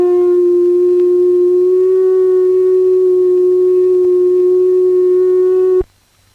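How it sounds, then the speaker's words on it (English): A steady, pure electronic tone holds at one pitch for about six seconds, then cuts off abruptly into silence. "the sound made by a sine wave, as reproduced through a loudspeaker,"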